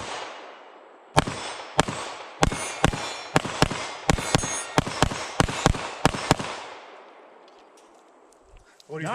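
A Springfield Armory DS Prodigy compensated 5-inch pistol fired at a range, about a dozen loud sharp shots in steady succession with ringing decay, then quieting.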